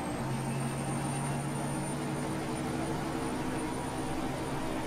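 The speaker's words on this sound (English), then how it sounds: "Now this truck sounds like its engine is in a barrel, doesn't it?" A truck engine in the Farming Simulator 19 video game, fitted with exhaust stacks, drones steadily and loudly throughout, with a hollow, muffled character and no talk over it.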